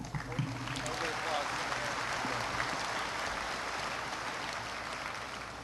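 An audience claps steadily through a high school Veterans Day program as Army veterans are named, with a continuous wash of applause.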